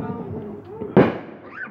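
A single firework bangs on the Fourth of July, one sharp burst after faint voices and background noise, followed by a brief whistle-like tail.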